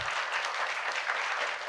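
Applause from a conference audience at a university principals' conclave, a dense, steady patter of many hands clapping continuously with no speech over it.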